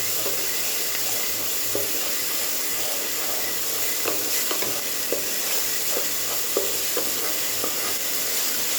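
Stem leaves stirred in a hot pan with coriander and cumin powder, a steady sizzle with scraping spatula strokes and occasional soft clicks throughout.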